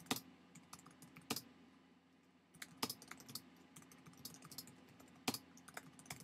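Rapid, uneven keystrokes clatter on a computer keyboard, close and moderately loud, with occasional sharper key strikes standing out over quiet room noise and no talking.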